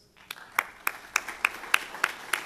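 A few people clapping at a mobile marketing awards night, slow separate claps in an even rhythm of about eight beats, near and moderately loud after a brief quiet start.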